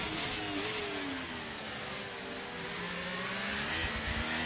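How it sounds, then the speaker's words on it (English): A racing video game car engine screams at high revs during a Las Vegas race, a loud sustained whine with pitch sweeping up and down through gear changes, no talking over it. "The engine is screaming."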